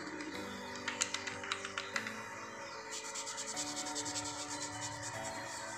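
A shoe is cleaned and finished by gentle rubbing and brushing, producing soft, repeated scratchy strokes, a few sharper clicks early on, then a faster run of brushing, all quiet and close with no talking.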